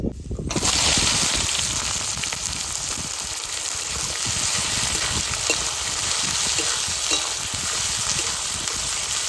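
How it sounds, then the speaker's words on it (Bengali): Bay leaf, cumin, whole garam masala and sliced onion drop into hot oil for a Bengali curry, bursting into a loud sudden sizzle that settles into a steady close crackling fry. "তেল গরম হয়ে গেছে তেলের উপর দিয়ে দেবো তেজপাতা জিরে আর গোটা গরম মশলা কোচানো পেঁয়াজ"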